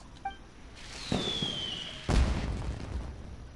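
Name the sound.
explosion, maybe fireworks, in video game Genshin Impact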